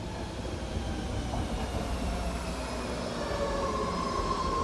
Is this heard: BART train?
yes